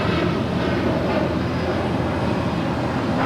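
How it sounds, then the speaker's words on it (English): An Alaska Airlines Boeing 737-900ER in special livery, arriving from Portland, lands at LAX, its broad steady jet roar holding constant and fairly loud throughout with no voices. "another special livery just landing here on the south side. Alaska Airlines and the honoring those that serve livery"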